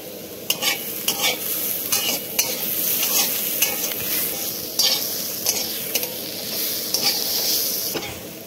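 Food fries in a pan with salt and chopped tomato, sizzling steadily up close while a utensil stirs and scrapes in repeated sharp strokes; nobody speaks.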